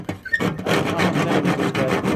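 A saw cuts through an object with steady, rhythmic strokes, close and loud, grinding on after a short pause at the start. Someone speaks briefly near the beginning.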